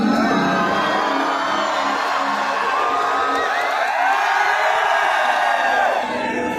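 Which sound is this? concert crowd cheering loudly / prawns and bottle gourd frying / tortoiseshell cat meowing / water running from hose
concert crowd cheering loudly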